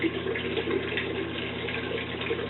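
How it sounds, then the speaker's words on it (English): Water drains from a tub through an opened drain in a plumbing cross-connection demonstration, giving a steady, close rushing gurgle that holds at an even level throughout with no voices. "Now, I'm going to open our drain, and that will drain the water back down."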